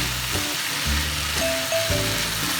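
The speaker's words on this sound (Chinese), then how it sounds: "再煸炒" Potatoes and green beans stir-frying in a wok, a steady sizzle running throughout with scraping stir strokes and faint tonal clinks, close and fairly loud.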